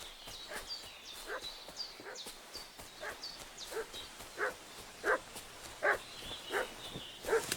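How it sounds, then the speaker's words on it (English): A dog in the Kingdom Come: Deliverance video game barks repeatedly in an agitated burst, the barks growing louder and more frequent toward the end, with faint hoof-like clopping and ambient outdoor sound beneath. "What's that dog making such a fuss about?"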